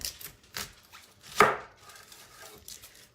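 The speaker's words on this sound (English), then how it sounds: "I always cut the onions from the root, which is the fuzzy part" A knife chops through an onion on a board, cutting from the root end to the stem: several sharp, close chopping knocks in an uneven rhythm with one loud strike near the middle, and no voices.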